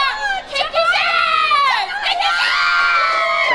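A crowd at a PrideStyle wrestling show cheers and shouts loudly and steadily, with high excited voices, including children's, carrying through the whole stretch.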